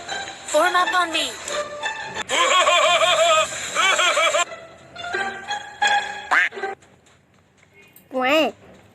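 A voice imitates a duck, letting out a few nasal quacking calls in short bursts alongside shouting and laughter, loud and close.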